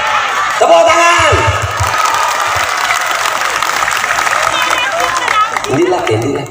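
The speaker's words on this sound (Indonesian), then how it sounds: "Tepuk tangan." An audience at an Indonesian religious sermon by a preacher applauds loudly, steady clapping mixed with cheering, whoops and chattering voices throughout.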